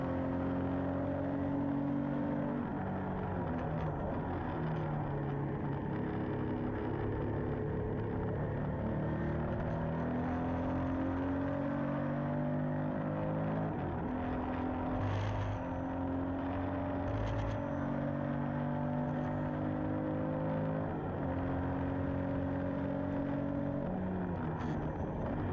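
A vintage Porsche racing engine drones and revs steadily at Mugello circuit, its pitch rising and falling through gear changes, loud and continuous with no talking.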